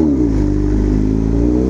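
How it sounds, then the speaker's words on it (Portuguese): A 600cc motorcycle pulls away in second gear, its engine droning loud and close with a steady, slightly rising pitch, the clutch under strain. "A moto tá de primeira. Vou pôr segunda. Você vai arrancar ela."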